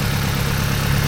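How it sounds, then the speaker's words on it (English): A Subaru WRX engine idles shortly after a cold start, giving a smooth, steady low rumble at close range with an even pulse and no voices. "this engine is so nice and quiet"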